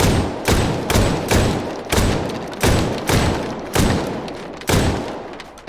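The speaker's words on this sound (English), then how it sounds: "Let's pick a bigger shotgun to do this with." A shotgun fires in the VR shooter H3VR, eight loud booming blasts spaced roughly every half to one second, each with a short decaying tail, close and alone.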